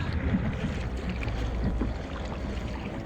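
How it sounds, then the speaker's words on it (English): A boat is paddled back through open water near an old lighthouse nature reserve, with a steady wash of water and wind noise and soft repeated paddle splashes throughout. "there's just a lot of constant paddling"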